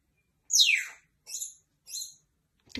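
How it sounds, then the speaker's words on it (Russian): A pet parrot gives three quick separate chirps, the first a loud downward-sweeping whistle and the next two shorter and softer. A faint click follows near the end, with no talking. "Ты кто у нас? Птичка-попугайка."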